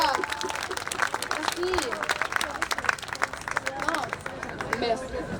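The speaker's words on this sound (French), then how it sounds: "S'il vous plaît, applaudissez chaleureusement Monica Freire et Lou Horta" An audience at a Quebec culture week event in Montreal applauds performers Monica Freire and Lou Horta, steady clapping filling the room from start to end, with crowd murmur and a brief spoken thanks over it.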